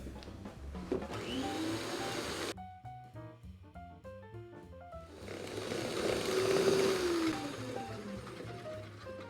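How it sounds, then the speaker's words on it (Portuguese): An electric hand mixer whirs loudly, beating margarine and sugar in a bowl, cuts off briefly, then starts again with a rising and falling motor whine and a faint scraping against the bowl. "Agora eu vou bater essa mistura toda na batedeira"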